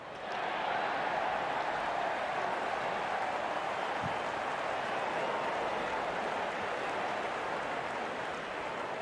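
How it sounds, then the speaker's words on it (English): Crowd noise at a T20 cricket match as the openers walk out: a broad, steady roar of cheering and applause that holds unbroken throughout, distant and washing over everything. "Out come the openers, cheered by a good crowd in."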